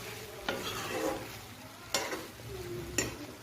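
Spice paste and boiled peas for matar ghugni are stir-fried in a pan, a soft steady sizzle broken by three sharp scraping strokes of a spatula.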